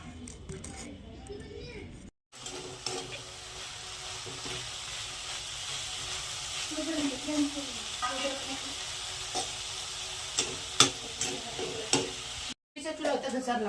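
Onions fry in a pan for breakfast with a steady, close sizzle that continues throughout, while a voice talks over it.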